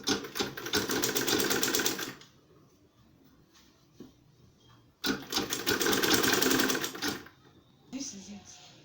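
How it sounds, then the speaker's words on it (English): A sewing machine top-stitches a lunch bag's fabric lining and foam insulation together, running in two steady, fast-whirring bursts of about two seconds each with a quiet pause between them, close up. "I'm going to sew this everything together, both the lining, the foam. I'm going to just top stitch it"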